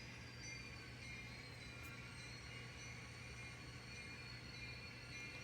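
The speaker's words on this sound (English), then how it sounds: "Be some blower noise there too." An N scale Norfolk Southern model locomotive running with dynamic brakes on gives off a steady, faint blower whine with a low hum beneath it, continuous and even throughout.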